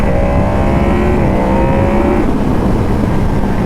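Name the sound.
motorcycle air intake induction whine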